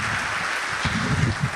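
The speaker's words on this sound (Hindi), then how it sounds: "पुरजोर तालियों से इस्तकबाल करें" An audience at a mushaira poetry gathering in Ichalkaranji claps to welcome a poet, a brief, dense burst of applause heard at moderate distance without speech.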